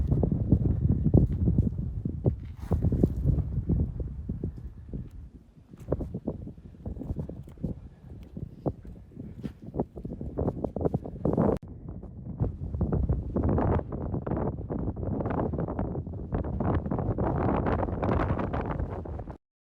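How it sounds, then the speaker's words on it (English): Heavy wind buffets the microphone in rough, rumbling gusts that rise and fall continuously on a steep climb of Kit Carson Peak in Colorado, with rustling and faint movement beneath. "This climb is steep. It's really windy."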